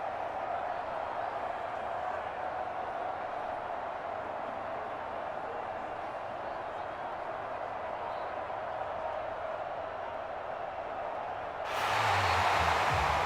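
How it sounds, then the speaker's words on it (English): Home crowd in the Madden NFL 23 video game, a steady stadium roar that swells into louder applause near the end, with no voices standing out. "And the home crowd applauding."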